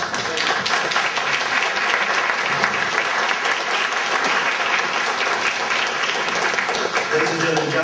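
An audience at a candidate forum applauds with sustained, dense clapping that holds steady and fairly loud for the whole stretch.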